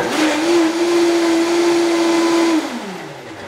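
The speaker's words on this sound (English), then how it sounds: "So according to this blender, I have about 2 cups of fruit in here." A countertop blender blending about two cups of fruit whirs with a loud, steady motor whine, then spins down and stops with a falling pitch, with no talking.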